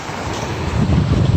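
Atlantic Ocean surf at North Hutchinson Beach, Florida, on a humid day: a steady low roar of waves with wind buffeting the microphone, building slightly louder toward the end, with no voices.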